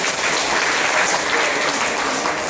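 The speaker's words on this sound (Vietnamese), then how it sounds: "Xin một tràng pháo tay để nhớ cái điểm." Sustained applause from an audience at a Buddhist gratitude-sharing event, steady and fairly loud clapping from many hands filling the whole stretch without a break.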